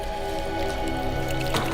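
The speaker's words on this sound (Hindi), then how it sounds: "कुछ आवाज आ रही है, पानी" Water runs behind the closed door of a locked room, heard from outside as a muffled, continuous gurgling trickle under a low hum.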